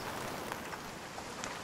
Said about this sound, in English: It's raining, so we don't have to water it ourselves.